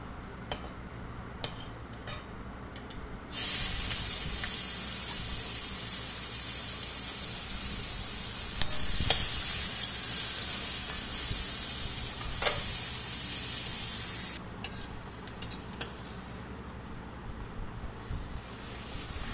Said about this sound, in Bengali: এবার আমি এতে দিয়ে দিচ্ছি পেঁয়াজ কুচি।